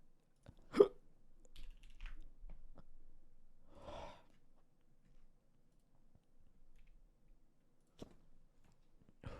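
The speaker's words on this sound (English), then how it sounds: "Have we got hiccups again?" Hiccups sound in short, sharp bursts spaced several seconds apart, fairly close and quiet against a near-silent background with faint clicks and breathing between them.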